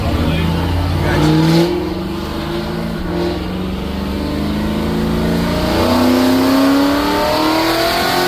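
A Big Block Chevy Nova roars under hard acceleration from close inside the car, its engine note climbing steadily through the revs, dropping at a gear change into second, then rising again, with a voice talking over it.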